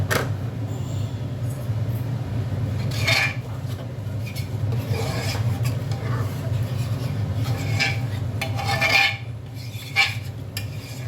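Hot water poured onto boiled urad dal and stirred in a pot, steady scraping and clinking of a spoon against metal with soft splashing, continuous and close.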